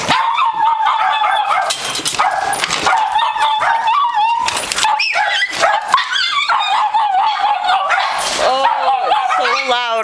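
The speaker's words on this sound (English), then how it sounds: "Did you hear him bark?" Pug dogs bark and yip loudly and close by in a house, in excited overlapping bursts with whimpers between, while people talk over them.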